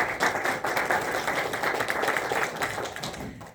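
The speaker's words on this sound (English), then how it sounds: "please give a round of applause for my panel" A conference audience at Dubai Arbitration Week gives a panel a round of moderate applause: several seconds of mixed clapping that stays fairly even, then thins out at the end.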